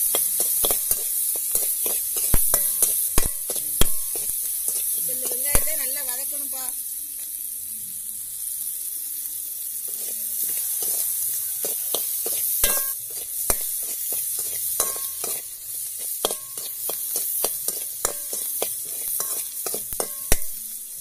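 Small onions and a chili sauté in a pan with salt, a continuous sizzle broken by sharp stirring scrapes and clicks, while a voice talks briefly partway through.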